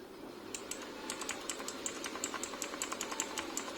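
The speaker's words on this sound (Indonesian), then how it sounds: "Jangan lupa untuk membuka BIOS-nya, ketik Del atau F2." Keys tapped on a computer keyboard while opening the BIOS of an ASRock B450M Steel Legend motherboard, a steady run of light, close clicks with no voices.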